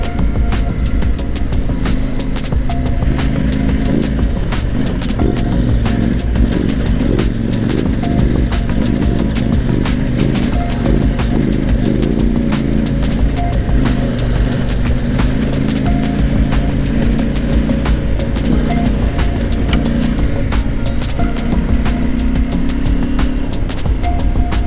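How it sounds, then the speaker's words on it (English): Motorcycle engine with a loud aftermarket exhaust, revving and rumbling steadily at close range for about 25 seconds, with a deep continuous drone and repeated throttle swells at an outdoor bypass road. "the sound of that exhaust system is just like"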